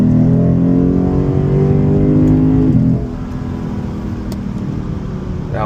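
A 2024 Lexus IS500 V8 engine pulls hard under acceleration with engine sound enhancement on, a loud rising drone heard from inside the cabin that suddenly drops to a quieter steady road roar.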